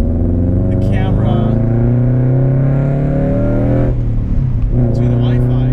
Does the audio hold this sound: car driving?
yes